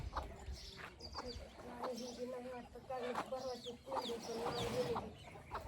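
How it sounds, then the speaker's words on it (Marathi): A hen clucks repeatedly at a farmhouse, short bursts of clucks recurring throughout at moderate distance, with other birds and faint voices in the background. "आका किती पिलं काढली तुझी कोंबडीनी"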